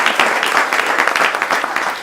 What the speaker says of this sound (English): I always have to give Lee and Joe another round of applause.